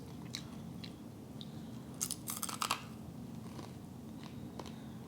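Dry, crisp crunching of dehydrated canned green beans being bitten and chewed up close, a few sharp bursts of crunch over a quiet background, with no talking.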